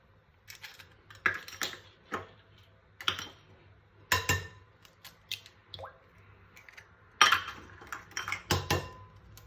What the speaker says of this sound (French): On va commencer par casser les 4 œufs aussi.